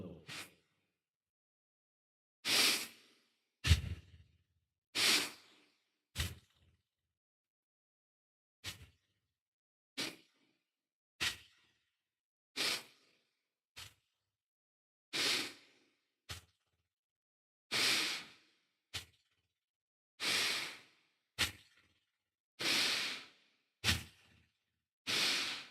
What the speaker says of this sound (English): let's begin with 30 rounds of bow breathing. In through the nostrils, out through the nostrils.